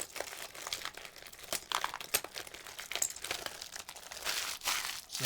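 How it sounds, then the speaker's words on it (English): Plastic or packaging material is scrunched up by hand to check nothing is left inside, a close, crisp run of crackling and crinkling bursts lasting several seconds. "So scrunch it up to be sure that there's nothing still in there."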